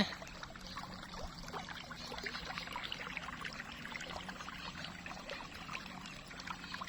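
Water pours and trickles steadily into a pond in a continuous, gentle splashing stream, fairly faint and distant, with no voices.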